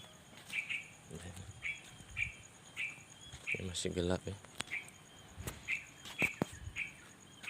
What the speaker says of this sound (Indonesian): suara burungnya berkicau.